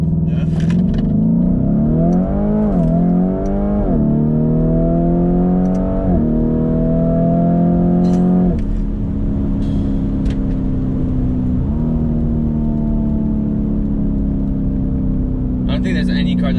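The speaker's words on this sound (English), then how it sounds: "let's launch it again" A Lamborghini Urus SUV making a launch start, its engine loudly revving up through several rising gear pulls before settling into a steady drone, with people talking over it.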